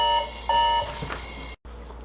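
A loud electronic alarm clock rings steadily with sustained high tones, then cuts off abruptly near the end before faint room sound returns.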